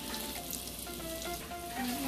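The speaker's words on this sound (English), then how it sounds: "I'm gonna put a little bit more curry in the oil so I can burn it a little bit." Minced garlic and curry powder sizzle steadily in hot oil for Jamaican curry chicken, a continuous close crackling fry with no voices.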